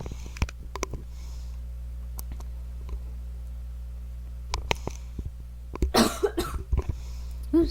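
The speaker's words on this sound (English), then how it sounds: "I was trying not to cough. I ended up coughing anyways." A person coughs close to the microphone in a short, harsh cluster near the end, after scattered clicks and light throat noises in an otherwise quiet room.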